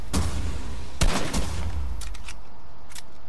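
Video game gunfire crackles in loud, close bursts, with a heavy volley at the start, another around the one-second mark and scattered quicker shots trailing after, without any talking.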